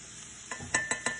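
Minced garlic, two cloves, hits cooked-down onions in a hot pan with a soft sizzle, followed by three or four sharp scraping stirs of a utensil against the pan.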